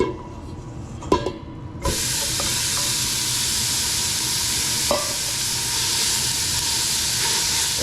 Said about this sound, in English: brown our ground beef